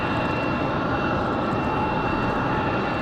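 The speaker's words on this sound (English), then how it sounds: "So we should be hearing, is that AeroMexico coming up?" An AeroMexico airliner approaches Raleigh Durham airport in windy weather, a loud, steady jet engine roar with a faint high whine, continuous and close, with no talking.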